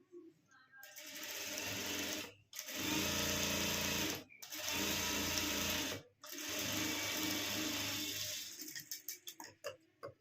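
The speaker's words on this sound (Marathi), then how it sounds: "तर आता इथून टीप मारायची आपल्याला" Sewing machine stitching a hem strip onto a net puff sleeve, running in three loud, steady bursts separated by brief pauses, then slowing into a few separate chunky stitches at the end.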